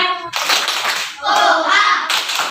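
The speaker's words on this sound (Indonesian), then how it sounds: "coba tepuk semangat" Schoolchildren in a classroom do a rhythmic spirit clap, with short bursts of loud group clapping mixed with their chanted voices close by.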